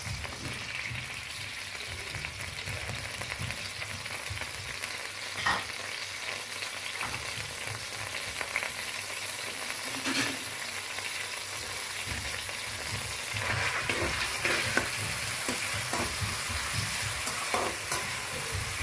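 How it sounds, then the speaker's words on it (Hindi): Steady sizzling of onions frying in hot oil for chicken masala, a constant crackling hiss with occasional clicks of stirring, close and moderately loud. "प्याज को अच्छी तरह से फ्राई होने दें।"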